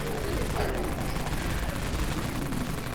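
A Dawn Mag machine gun fires continuously in the Dead Frontier video game, giving a dense, unbroken roar of rapid gunfire with rumbling booms that stays loud and steady throughout.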